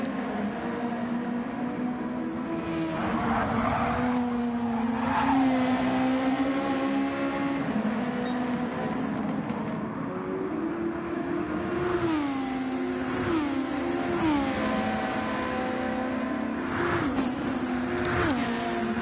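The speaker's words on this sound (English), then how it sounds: "we're just going to listen to these engines for just a minute now as they navigate the second sector" Formula-style racing car engines in a racing video game, several high-pitched engines rising and falling in pitch through upshifts and downshifts, close and continuous with no voices over them.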